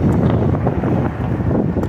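Strong wind blows steadily and loudly, buffeting the microphone with a continuous low roar that never lets up.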